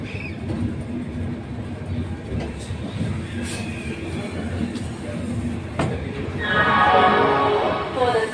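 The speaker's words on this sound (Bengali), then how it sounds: "ট্রেন ছেড়ে দিল, আজকে লেটে ট্রেন ছাড়লো বন্ধুরা।" A passenger train pulling out of a station in India, a steady low rumble and rolling clatter throughout with a rising squeal of wheels near the end, close and fairly loud, with faint voices mixed in.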